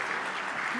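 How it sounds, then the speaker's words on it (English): Applause from a keynote audience at a Snapdragon tech summit, a brief, steady wash of clapping under a faint voice. "so I hear some claps"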